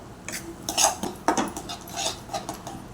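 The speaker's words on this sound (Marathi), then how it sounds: "हे परतून घेऊया" Modak filling being sautéed and stirred in a pan, with a run of metallic scrapes and clinks from a spoon against the pan, moderately loud and close, with no talking.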